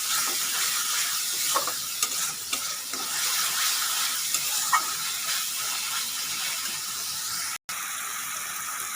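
Spice paste for shol fish kalia stir-frying in a pan, a steady close sizzle with scraping stirs of a spatula, continuous and fairly soft.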